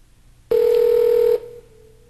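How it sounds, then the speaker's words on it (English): A cell phone places a regular call through a wireless carrier, giving off a single steady electronic tone that lasts just under a second before fading into a quieter lingering hum. "I'm just going to call him back on my cell phone."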